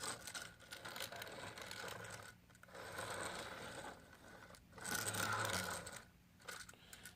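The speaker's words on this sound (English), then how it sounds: "Like, you can hear all this rattling." Rattling and clicking from a Toy Biz Marvel Legends Professor X figure's toy wheelchair as it is wheeled around: faint, close plastic clatter and ratchety ticking in short bursts, with small pauses between them.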